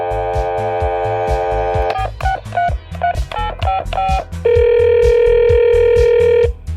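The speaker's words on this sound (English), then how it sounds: "I'm going to dial up the phone here" A steady dial tone, then a quick run of keypad beeps, followed by a long electronic ringing tone.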